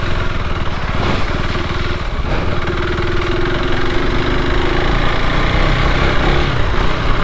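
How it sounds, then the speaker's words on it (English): A KTM 390 Adventure R motorcycle engine runs loud and close at a steady low idle, with a continuous throbbing rumble and a brief rise in revs near the middle. "The bike seems alright. It definitely feels less boggy at lower revs"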